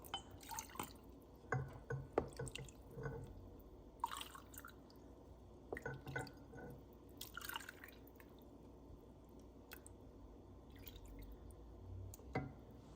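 Mulled wine (Gluhwein) is ladled in a home kitchen, with soft liquid drips and small pours splashing against glass and pot over a quiet background. No one speaks.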